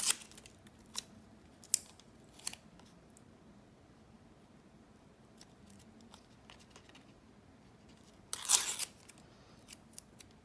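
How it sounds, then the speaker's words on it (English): Adhesive sheet peeled off craft paper during card making, heard as a brief tearing rip near the end among a few faint crinkles and taps, fairly quiet and close. "Oh, this is the one that I used the adhesive sheet on. I forgot, so I'm just going to peel that off."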